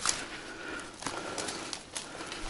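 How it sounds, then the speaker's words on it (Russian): A young hawk flaps its wings as it flies out through a window of an abandoned rural house, a brief burst of flapping that is loud and close with no talking. "Ястреб молодой. Вылетай, вылетай. Все, вылетел. В окно бухнул."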